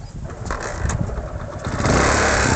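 A scooter engine starts up and runs steadily, its mid-pitched drone rising in loudness toward the end, heard close and alone, with no talk over it, outdoors on a rainy day.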